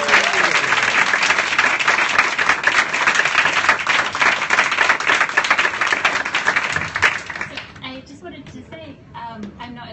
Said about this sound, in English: So a big round of applause for Sarah,